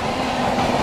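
The 16031 Andaman Express with LHB coaches rumbles along in a steady, loud, continuous roar of rolling wheels heard from on board.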